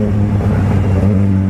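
Yamaha XJ6 motorcycle engine running steadily while riding on a pothole-filled street, a loud continuous low rumble with strong harmonic hum throughout, close and unbroken, with no talking.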